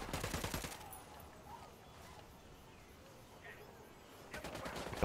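Rapid bursts of enemy gunfire in Ghost Recon Wildlands open and close the moment, loud and dense, with a quieter ambient stretch in between.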